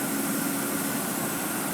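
A large excavator's diesel engine idles steadily in a cool-down before switch-off, a constant broadband rumble with a low hum, loud and continuous, with no talk.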